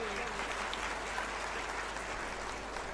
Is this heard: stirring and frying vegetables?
no